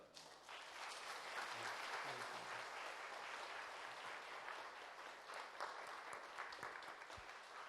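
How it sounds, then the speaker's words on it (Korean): Sustained applause from a large congregation fills a church during a Sunday service, steady for several seconds before thinning slightly. "전달할 때 큰 박수로 격려해 주시기 바랍니다"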